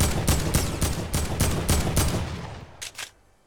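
Sniper rifle shots in a Fortnite Battle Royale match ring out as a rapid string of sharp, loud cracks, about eight in a steady rhythm, then two fainter, more distant shots before fading to quiet.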